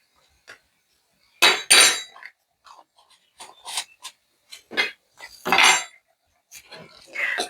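Spoon clinks and scrapes against a bowl while cassava cake batter is stirred, coming in irregular bursts of sharp clatter close by with quiet gaps between them.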